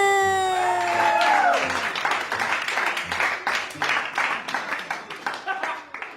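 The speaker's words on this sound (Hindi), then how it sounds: "जोरदार तालियों से उनका आपने इस्तकबाल करना है।" Loud audience applause for a comedian being introduced, settling into steady rhythmic clapping in unison, with a voice heard briefly at the start.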